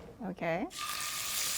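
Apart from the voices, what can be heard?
scallops sizzling while searing in a pan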